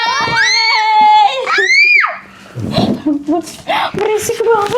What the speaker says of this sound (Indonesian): Berisik banget teriak-teriak.